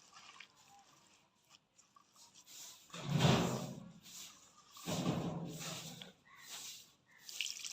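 Water poured into a pan of dried kachki fish curry coated in mustard oil, two short splashing pours separated by quiet, with faint clatter around them.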